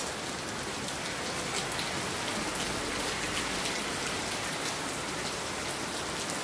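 Heavy monsoon rain pours steadily in Karjat, a dense, even hiss of drops on surfaces, close and continuous, with no voices.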